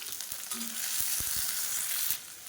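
Whole small onions frying in a pan for sambar, a steady bright sizzle throughout with a few soft stirring knocks, close and even, fading slightly at the end.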